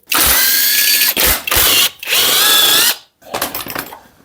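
A power tool spins off 13 mm bolts holding an AC compressor to a supercharged Audi 3.0T engine, in four loud, close whirring bursts separated by brief pauses.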